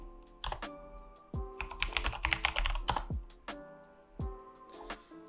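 Bursts of close keyboard typing as a terminal command is entered, with scattered single key taps and a quick flurry in the middle, no talk.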